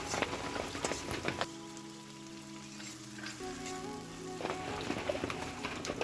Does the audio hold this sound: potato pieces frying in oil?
yes